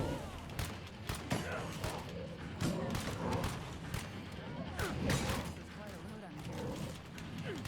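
Gunfire at zombies in State of Decay 2: scattered rapid shots and thumps among game sounds and shouting voices, moderately quiet overall.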